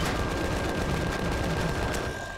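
Shotgun fire in the video game Empyrion: Galactic Survival, a dense burst of loud blasts packed together for a couple of seconds with no talk.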